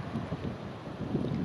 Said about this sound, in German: Der Wind treibt es in diese Richtung.